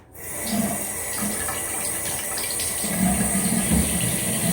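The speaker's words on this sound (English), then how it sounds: "I'm going to wash my hands" Tap water running steadily into a sink during handwashing, a continuous close splashing rush with shifting gurgles as hands move under the stream.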